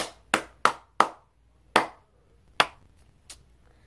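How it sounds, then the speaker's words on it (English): One person claps their hands about seven times at uneven intervals, each clap sharp and close in an otherwise quiet indoor room. "Round of applause to me."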